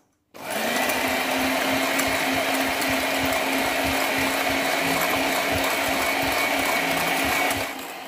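Electric hand mixer beating eggs with sugar and vanilla essence for a strawberry cake, a steady whirring drone with a faint rattle, running alone for several seconds after switching on.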